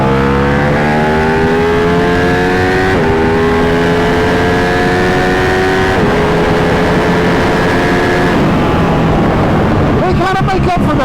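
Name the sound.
Ducati superbike motorcycle engine revving while riding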